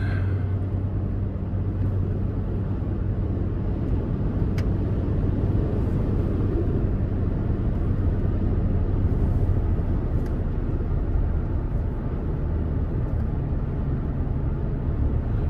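Inside the cab of a 2023 Toyota Tacoma SR Access Cab, the 3.5-liter V6 accelerates on the road as a steady, low engine drone blended with road and tire rumble, continuous and even throughout.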